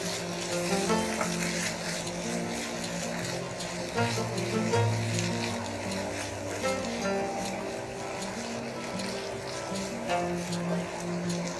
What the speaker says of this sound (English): Now mix everything together.